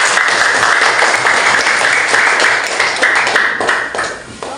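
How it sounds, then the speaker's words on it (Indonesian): Clapping from a fourth-grade class rewarding group 2 during a lesson on the human digestive system, dense and steady for several seconds before thinning slightly at the end, with no talking over it. "Oke, beri tepuk tangan untuk kelompok 2."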